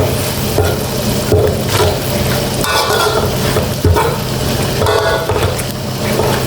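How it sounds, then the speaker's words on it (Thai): Coconut milk simmers and sizzles with fatty pork neck for a red curry, a loud, continuous bubbling hiss with occasional stirring clinks and scrapes against the pot. "เคี่ยวไปเลยค่ะเคี่ยวกะทิให้แตกมัน"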